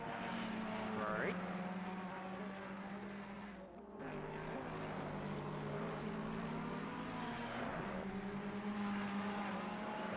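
GT4 and GT3 race cars of mixed makes (Lexus, Mercedes, Ferrari, Audi, McLaren, Porsche) in an endurance race at Hungaroring, engines droning and shifting steadily at close range, with a voice talking over them.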